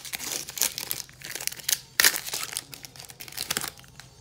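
Foil wrappers of Pokemon Sun & Moon Guardians Rising booster packs crinkle and tear close up, irregular bursts of crackling with a sharp rip midway, no voices.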